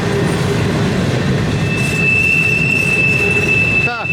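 Railroad cars roll around a curve in Mance, Pennsylvania, with a steady, loud rumble of wheels on track and a thin, sustained metallic squeal running through it, ending in a brief clatter.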